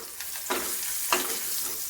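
Tempering for dal as asafoetida and chillies hit hot oil, a steady soft sizzle with two brief louder crackling bursts as things drop into the pan.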